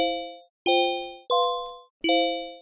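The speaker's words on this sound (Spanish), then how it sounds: "Nos suena ahí parecido como a una caja musical." Four clear FM-synthesized bell tones with a long release chime one after another, each struck brightly and decaying slowly, sweet and tinkling like a music box.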